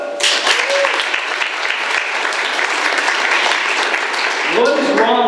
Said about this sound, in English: Parents clap.